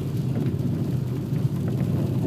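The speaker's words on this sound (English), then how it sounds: "Right now it seems like rain." Rain falling during an offroad drive on an unpaved road, a steady dense patter mixed with low vehicle rumble, continuous and fairly loud throughout.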